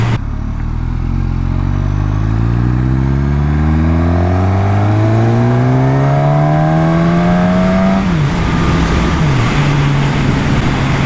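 A 2020 Suzuki Katana motorcycle revs hard, its exhaust and intake snarl climbing steadily in pitch over several seconds before a sharp crack and a drop into a rough, loud idle, close and alone.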